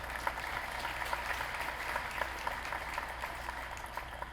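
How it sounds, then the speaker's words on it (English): A round of applause for the retiring Dr. Hoffman at a high school graduation ceremony, distant, faint clapping from a large crowd in a big hall, steady and soft throughout. "so we want to give him another round of applause."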